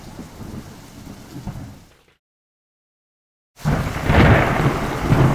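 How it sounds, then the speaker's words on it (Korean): Heavy rolling thunder over steady rain, cutting to a moment of silence, then a loud, close crack and rumble of thunder with rain. "밤에는 천둥도 쳤습니다."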